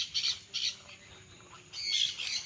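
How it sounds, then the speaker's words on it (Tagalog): Pet birds kept on a rural farm in Liliw, Laguna, giving a few raspy, fairly faint squawks in short bursts, with the last call drawn out longer. "Meron silang alagang mga ibon"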